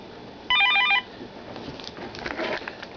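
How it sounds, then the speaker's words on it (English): A telephone rings once with a bright, warbling electronic trill lasting about half a second, followed by faint rustling and handling sounds indoors. "Telephone ringing."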